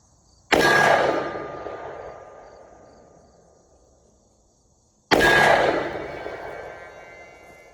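Two loud gunshots from a Smith & Wesson 640 Black Edition J-frame revolver fired with open sights at a target, each sharp crack followed by a long ringing decay, several seconds apart.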